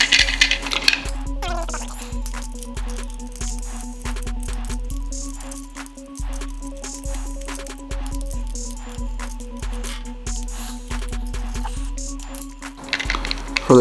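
Small screws being backed out of a plastic Beyblade launcher, a steady run of short, evenly spaced metallic clicks and rattles close by with a faint hum underneath and no talking.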